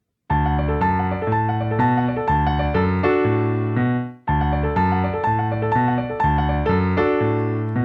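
At a very slow tempo, a piano works through part of a song, deliberate notes and chords in two phrases with a short gap between, played close and unaccompanied.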